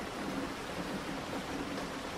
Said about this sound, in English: The rain outside is a comforting presence,